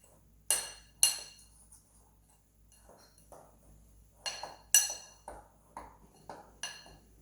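Dry baking ingredients for a pumpkin bake are mixed in a bowl, with sharp metallic clinks and pings of a utensil striking the bowl in irregular bursts, some close and loud, others softer, with quiet scraping between.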